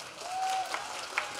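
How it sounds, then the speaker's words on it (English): Schoolchildren clapping their hands at a mini Elks rodeo in Santa Maria, a short burst of crowd clapping with a whistle-like tone and some background voices. "Everybody clap your hands."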